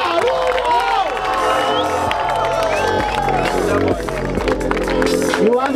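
At the grand final of a freestyle rap battle, the crowd cheers and shouts continuously. The noise sits under a loud rapping voice and a thumping beat.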